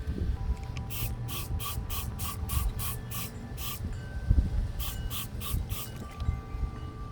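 A pump sprayer hisses in two bursts of quick, evenly spaced spritzes as roses are treated for powdery mildew, close and crisp over faint background rustling.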